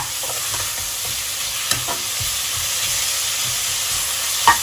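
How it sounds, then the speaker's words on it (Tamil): Ginger garlic paste sautéing in hot oil for prawn biryani, a steady close sizzle and hiss with occasional scrape and clink of stirring. "இப்போ இஞ்சி பூண்டு பேஸ்ட் வந்து நல்லா இதில் எண்ணெயில் வதங்கிடுச்சு"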